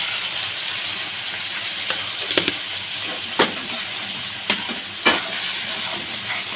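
Ginger paste added to a pan of kakrol (spiny gourd) curry, sizzling continuously while a spatula stirs and taps, leaving several distinct scraping knocks over the hiss, with no speech.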